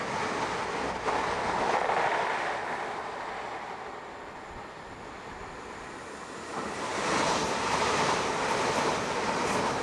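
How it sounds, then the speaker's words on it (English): A Voyager train rushes past at Starcross on the Riviera line with a broad, roaring rumble that swells, eases slightly, then surges again, heard from fairly close by with no voices. "I'm gonna miss an amazing shot of the train going past. Turns out it's only a Voyager."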